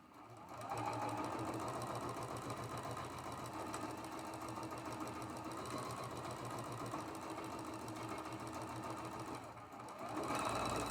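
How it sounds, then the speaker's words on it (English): Sewing machine stitching the last seams of a traditional quilt block, a continuous rapid mechanical chatter running steadily throughout at close range with no talk. "We're going to sew our last 2 seams."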